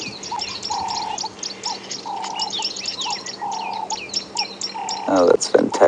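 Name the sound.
tawny-flanked prinias calling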